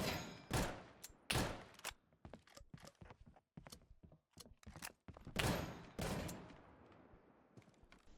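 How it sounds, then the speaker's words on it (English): Shotgun gunfire in the video game Deadside: several loud, sharp blasts at irregular intervals, close by, with quieter clicks and footstep-like clatter between the shots. "Poke around the corner, shotgun up in the air, bang."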